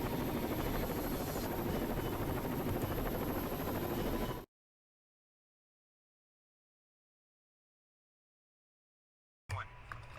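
Combat helicopter in the Rainbow Six Vegas 2 video game, a loud continuous rotor drone and engine buzz that cuts off abruptly after a few seconds, then returns briefly near the end.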